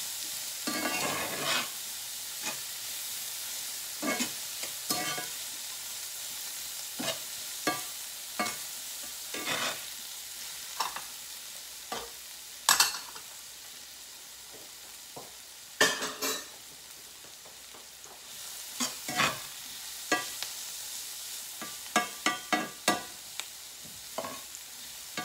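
Vegetables cooking in a pan, a soft steady sizzle broken by frequent scraping and clinking stirs of a utensil, close and fairly quiet.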